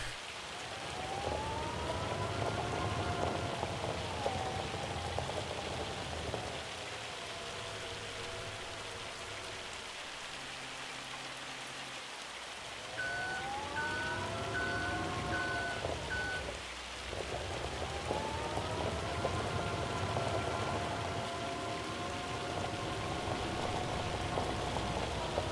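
Hail falls during a storm in the video game Farming Simulator 25, a steady hiss of pelting ice laid over continuous weather ambience. A low rumble and rising and falling tonal wails sweep through the background, and no one speaks.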